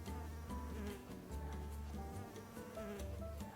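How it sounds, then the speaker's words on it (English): Bees buzz around a rosemary bush in a garden, a steady close hum with shifting pitch as individual insects fly near, continuous and fairly quiet with no talk. "I'll try and hold the microphone closer to the bees, and you can hear them."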